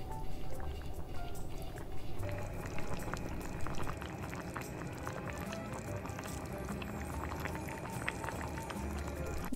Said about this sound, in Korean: 그냥 센 불에서 올리셔서 몽글몽글 이렇게 끓기 시작하면 그때 불을 줄여줍니다.